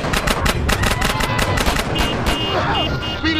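Drive-by gunfire in the GTA San Andreas video game: loud, rapid automatic shots in a steady rhythm from a moving car, close and continuous, over engine and street noise.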